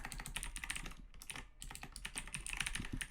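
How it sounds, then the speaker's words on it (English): A new, clacky computer keyboard is typed on in quick irregular bursts, crisp close key clicks with a brief pause midway, quiet overall and with no talking. "I got a new keyboard, so it's nice and clacky."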